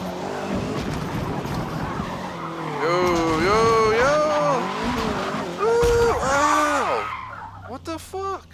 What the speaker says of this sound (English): Someone crashed back there?